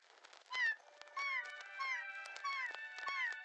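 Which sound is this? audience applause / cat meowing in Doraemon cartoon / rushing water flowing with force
cat meowing in Doraemon cartoon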